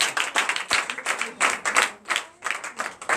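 Clapping from a congregation at a Sunday church service, loud close rhythmic bursts of hands with short uneven pauses, lively and energetic.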